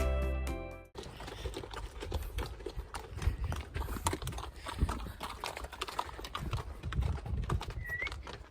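Horses being ridden up a mountain valley trail near Solang Valley, Himachal, with hooves clip-clopping irregularly over outdoor ambience and faint bird calls; a short burst of music opens it.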